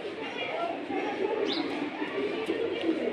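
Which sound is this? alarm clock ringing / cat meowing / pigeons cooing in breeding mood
pigeons cooing in breeding mood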